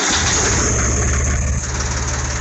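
A big compressor engine runs loud and close with a steady droning hum and a dense mechanical roar, holding constant apart from a slight dip late on.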